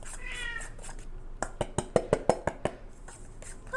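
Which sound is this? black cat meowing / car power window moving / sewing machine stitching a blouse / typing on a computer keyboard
black cat meowing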